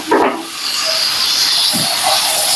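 Chopped potato pieces and a handful of peas tipped into a hot pan, giving a steady loud hiss of frying that runs through the whole moment with a few soft knocks.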